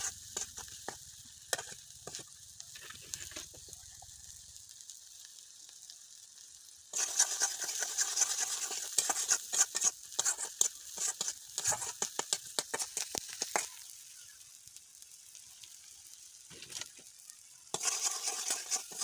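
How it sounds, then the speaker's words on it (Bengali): Salt and turmeric spice mix frying in a pan for an egg and potato fritter dish, quiet scrapes of stirring at first, then a louder crackling sizzle with frequent spatula clatter that drops off and returns near the end. "ভাজা হয়ে গেছে মশলা ভাজা"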